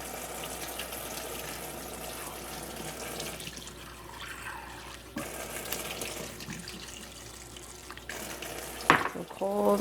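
Cold water pours and splashes into a bowl of just-boiled eggs topped with ice, a steady faint running-water hiss in a home kitchen, with a brief clatter near the end.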